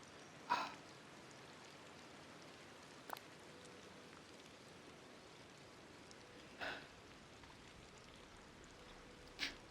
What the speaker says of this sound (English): this rain on the game is like foreshadowing all the rain we're about to get in real life here where I live